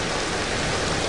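Heavy monsoon rain pours steadily and loudly, a dense, unbroken hiss with no gaps and no voices.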